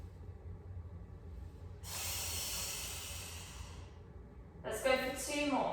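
A deep breath drawn in during a core stabilising exercise, starting as a soft airy hiss partway through and sustained for a couple of seconds, then a second breathy rush near the end, close and fairly quiet.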